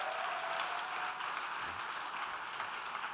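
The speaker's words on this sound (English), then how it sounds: "Ladies and gentlemen, Tsepo and Bruce, a round of applause." A festival audience applauding for Tsepo and Bruce, steady faint clapping heard from a distance throughout, with no talk.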